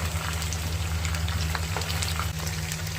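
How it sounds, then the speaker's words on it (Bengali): Chicken pieces deep-frying in plenty of oil for chilli chicken, a steady dense bubbling sizzle with a low constant hum underneath, close and alone. "চিকেনটাকে কিন্তু ডুবো তেলে ভাজতে হবে"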